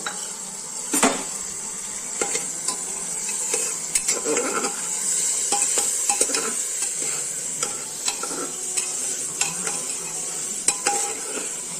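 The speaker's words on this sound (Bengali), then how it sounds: "সবজি ডালটাকে হালকা ভেজে নেব" Dalia and mixed vegetables lightly frying with cumin seeds in a pan, soft sizzling under frequent clinking, scraping stirs of a spoon against metal.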